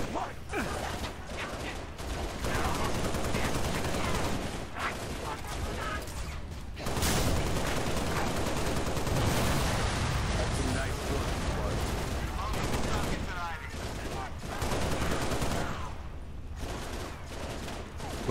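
Rapid gunfire in the Halo Reach video game, sustained bursts of shots layered over a dense, loud battle din with mechanical clatter, running nearly nonstop with brief lulls.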